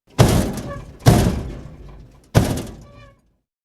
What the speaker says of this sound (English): there was a loud banging on the door